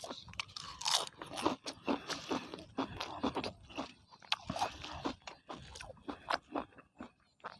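Boiled apple snails are eaten with seafood dipping sauce, heard as close, irregular crunching and chewing with wet bites and a few soft murmured sounds.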